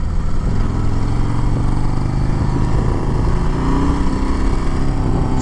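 A 2021 Harley-Davidson Sport Glide motorcycle engine drones steadily while riding, producing a loud, continuous, slightly buzzy rumble mixed with road and wind noise, with no pauses or speech.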